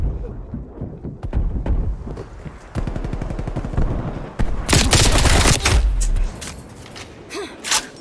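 Rapid bursts of AK47 automatic fire in the shooter game Black Ops Cold War crackle loud and close, from short scattered shots into a dense sustained volley, then trailing off into a few final blasts.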